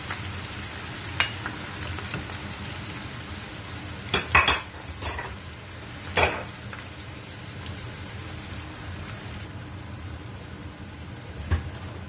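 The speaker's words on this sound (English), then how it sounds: "The onions, we fry it together with the red oil." Onions fry in red palm oil for a Nigerian egusi soup, giving a steady soft sizzle and crackle with a few sharper clinks of a spoon stirring the pan, close and without talk.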